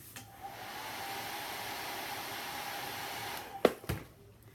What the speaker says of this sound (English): I want to blow dry that just a little bit